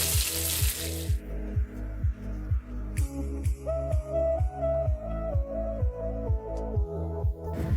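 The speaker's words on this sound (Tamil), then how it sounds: "இந்த அரிசை 3 தண்ணியில் நல்லா கழுவி எடுத்துக்கணும்." Water sloshing in a rhythmic, repeated swish as rice grains for chicken biryani are stirred and rinsed by hand, close up, with a brief splash at the start.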